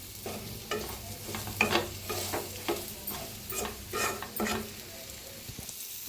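Fennel, cumin and coriander seeds dry-roasting in a pan, with scraping and stirring strokes and a light crackle repeating every second or so, close and fairly soft, no talk.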